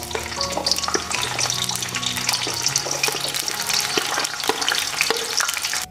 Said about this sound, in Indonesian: Kalau minyaknya sudah agak panas, masukkan bawang merah dan juga bawang putihnya.